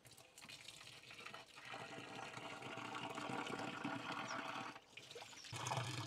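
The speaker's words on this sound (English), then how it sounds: "Then here comes the water." Water gushes and splashes steadily as a supply is connected in a Kenyan village, a fairly continuous rushing flow close by with brief dips in level and no talk.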